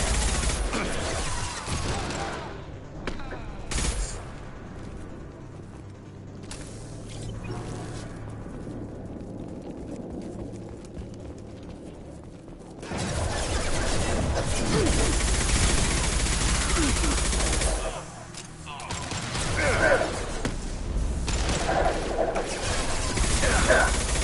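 Video game shooting training: bursts of rapid gunfire crackle loudly, drop into a quieter lull, then return in heavy volleys through the later half.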